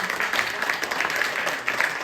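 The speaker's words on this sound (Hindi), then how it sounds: "तालियां मिल के बजाए।" An audience at a Hindi poetry recitation claps together in steady, dense applause that fills the room, fairly loud and continuous.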